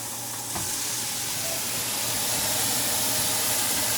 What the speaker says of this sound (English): Nice hot pan. You hear that simmer?